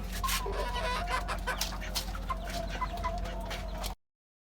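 Chickens cluck in a rooftop poultry pen, a busy stream of short, overlapping calls close by over a low hum, cutting off abruptly before the end.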